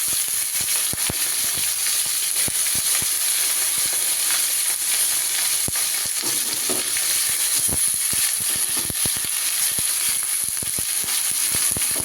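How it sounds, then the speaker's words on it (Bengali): Food frying in a pan in a home kitchen, a loud continuous sizzle and hiss with scattered crackles and pops throughout, no voices. "ভাজা বসিয়েছি।"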